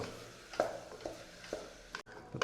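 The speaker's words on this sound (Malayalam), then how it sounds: "2 ചെറിയ തക്കാളി ചെറുതായിട്ട് അരിഞ്ഞതാണ്, അതും ചേർത്ത് കൊടുക്കുക. അതും ചേർത്ത് കൊടുത്തതിന് ശേഷം നല്ലോണം ഇളക്കി കൊടുക്കുക." Chopped tomatoes stirred into a beef curry pan, a spoon scraping in a few soft separate strokes over a faint background sizzle, close and fairly quiet.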